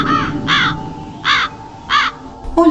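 A crow gives four loud, harsh caws, evenly spaced and close, each a short raspy call standing out clearly over a faint background hum.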